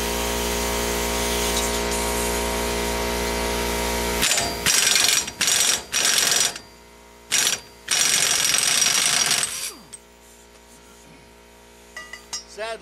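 Steering knuckle nuts coming off a 2007 Ram 3500 Heavy Duty during a ball joint job, with a loud close power tool running in several short bursts over a steady background hum, then quieter clicks at the end.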